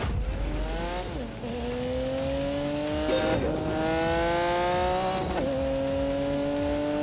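A 1985 car with a 5-litre V12 revs hard through the gears, its engine note climbing, dropping at each shift and climbing again, loud and sustained, with a touch of tyre squeal.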